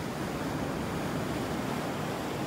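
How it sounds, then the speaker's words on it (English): Big ocean waves pound the beach shore at Delnor-Wiggins Pass State Park on an eroded stretch of sand, a continuous loud, broad roar of surf with wind and no clear breaks, no voices. "Got some pretty big waves pounding the shore here."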